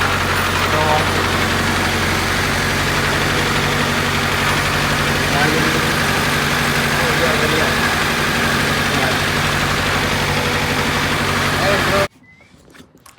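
A Honda Civic with a swapped B16 engine and a very quiet exhaust idles with a steady, loud, even drone close by for about twelve seconds before cutting off abruptly.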